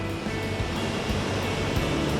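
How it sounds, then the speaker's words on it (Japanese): A powerful waterfall in a mountain gorge gives a steady, dense rushing roar, close and unbroken. "いやー、迫力ある滝だな。"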